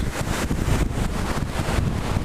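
Strong gusts of wind buffet the microphone in a constant, heavy rumbling roar with no other sounds.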